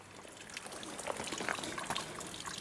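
Sonia waterfall in summer, trickling water with a steady broadband wash and small splashy accents, continuous and moderately close, with no voices.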